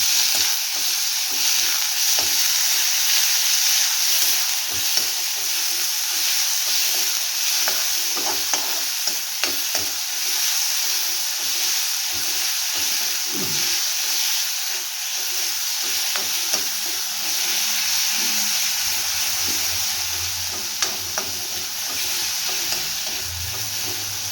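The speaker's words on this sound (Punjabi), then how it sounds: "ਹੁਣ ਅਸੀਂ ਪਾਵਾਂਗੇ ਕੱਦੂਕਸ ਕੀਤਾ ਆ ਪਿਆਜ਼ ਅੱਛਾ ਜੀ ਇਹਨੂੰ ਥੋੜਾ ਥੋੜਾ ਹਿਲਾਵਾਂਗੇ" Grated onion sizzles steadily in a hot pan with cumin while a spoon stirs it now and then, giving close, continuous frying noise with small scraping clicks and no voices.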